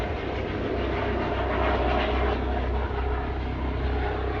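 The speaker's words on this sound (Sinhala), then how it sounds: "මේ හොස්පිටල් එකේ ඔය ඉමර්ජන්සි සර්විස් එකේ හෙලිකොප්ටර්ස් දාලා ගන්නේ" An emergency service helicopter lands at a hospital in a German town, with a sustained heavy roar of engine and rotor that swells slightly midway and holds steady throughout.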